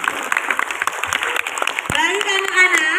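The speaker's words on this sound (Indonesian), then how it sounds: "Beri tepuk tangan untuk kita semua" Classroom of eighth-grade students bursts into a short round of clapping, dense and close, with voices calling out over it.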